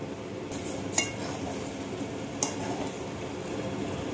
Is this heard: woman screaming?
no